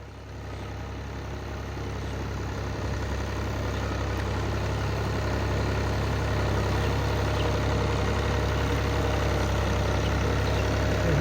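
A tractor engine, working while stuck in mud, runs as a steady low diesel drone that grows gradually louder across the whole stretch, with no talk.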